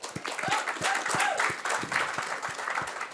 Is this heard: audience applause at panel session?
yes